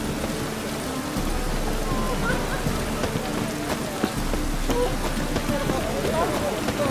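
Steady rain falling in The Witcher 3, a constant hiss with scattered drops, and a voice speaks over it.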